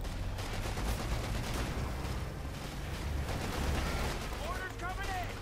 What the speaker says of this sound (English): Bit of shooting up close.